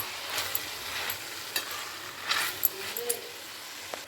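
Broad beans stirred as they fry in oil for a tomato curry, making a soft sizzle with intermittent scraping strokes of the spoon. The sound is fairly quiet and close.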